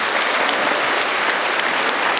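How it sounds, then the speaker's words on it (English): Audience applause at a conference stage appearance, a brief, even burst of dense clapping throughout with no talking. "Round of applause."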